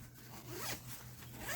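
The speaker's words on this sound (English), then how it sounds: "You can unzip that zipper and now they become that deep." A zipper on a travel organizer made from recycled bottles is pulled open in one short, close, quiet zip with no talking.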